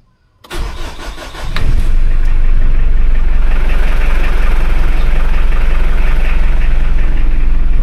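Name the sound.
Mitsubishi L200 Strada engine being started after starter repair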